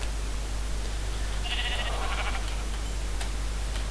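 A sheep bleats once in a video game, a wavering bleat of about a second in the middle of steady loud hiss and noise, with no talk.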